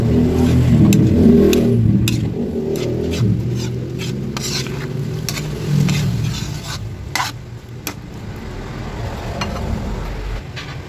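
Ground pork and green peas stirred in a sizzling pan, with sharp spatula scrapes and clacks against the metal over a steady frying hiss, fairly close and loud, no talking.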